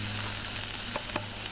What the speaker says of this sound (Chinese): 橄榄油中大火煎肉